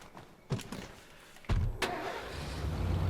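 A truck engine cranks and catches in the zombie survival game State of Decay, with a couple of sharp clunks before the motor fires and settles into a rising, rough running note, loud and close.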